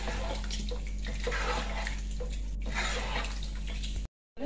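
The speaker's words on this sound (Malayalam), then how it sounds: "അപ്പൊ കുറച്ച് വെള്ളം ഒഴിച്ചു കൊടുത്തു." Water is poured into a pot of rice with chicken for a kabsa-style rice dish, a steady, close splashing stream that runs for about four seconds before stopping abruptly.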